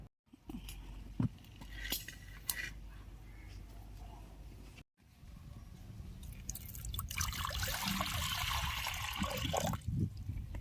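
Water is poured into a pan to boil brain seasoned with turmeric and salt in a home kitchen. After a few quiet knocks and clatters, a soft, steady splashing pour fills the last few seconds, quite faint overall.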